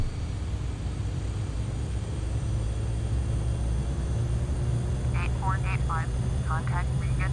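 Airliner engines roaring at full takeoff power in the FSX flight simulator, a loud, steady rumble that holds unbroken throughout, with a few short chirping tones cutting through near the end.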